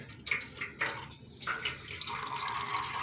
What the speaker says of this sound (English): I just loosened the drain cock and the antifreeze is coming out